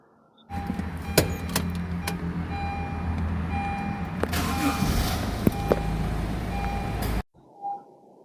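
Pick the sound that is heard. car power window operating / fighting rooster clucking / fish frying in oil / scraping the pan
car power window operating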